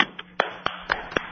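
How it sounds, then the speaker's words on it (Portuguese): Slow, deliberate hand claps, about seven sharp claps spaced evenly, close and distinct with quiet gaps between them. "Bolinha, eu vou aplaudi-lo."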